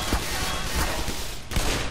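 Gunfire in the Black Mesa video game crackles through a dense stretch of shots with no gaps between them, loud and continuous, with a few sharper thumps standing out from the volley.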